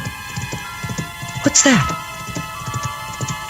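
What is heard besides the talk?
horse hooves clip-clopping, someone riding a horse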